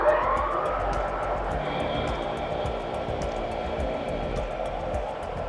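A Nordson Encore LTE powder coating gun sprays with powder flow set at 10 and airflow at 5, fed from a vibratory box feeder, producing a steady, loud, airy hiss that runs unbroken throughout.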